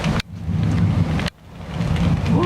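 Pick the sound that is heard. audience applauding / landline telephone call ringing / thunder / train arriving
thunder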